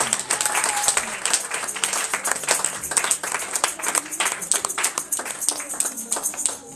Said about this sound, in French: Acclame d'abord pour la gloire du Seigneur.